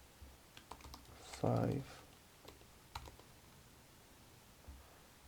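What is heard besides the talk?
typing on a computer keyboard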